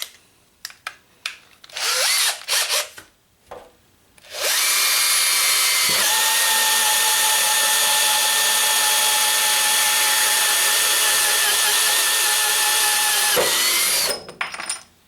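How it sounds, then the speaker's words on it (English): A Bosch DDB181 compact 18V drill/driver spins a thin-wall hole saw through sheet metal, a few short trigger bursts followed by a long steady high-pitched whine of cutting that stops abruptly near the end. "using thin wall hole saws will be able to punch holes right through sheet metal and leave a burr-free finish"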